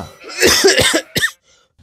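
A man with a cold coughs in a quick burst of several harsh, close coughs, then one more after a short gap before the sound drops to silence.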